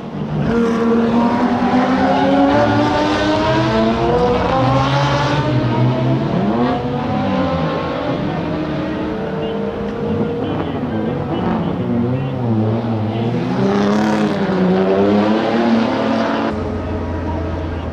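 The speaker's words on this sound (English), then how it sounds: "the American Murray Smith, whose Frazier-Nash heads off in a spin in the Portier corner." Racing engine of a 1950s Frazer Nash sports racing car spinning at Monaco's Portier corner, a loud, continuous engine note sweeping up and down in pitch, with an announcer-like voice running underneath.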